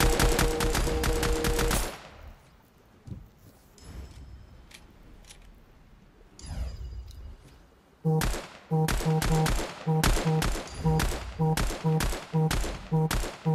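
Rapid automatic gunfire in Fortnite, loud bursts for about two seconds, a quieter stretch with scattered shots, then a sustained run of evenly spaced heavy shots from eight seconds on.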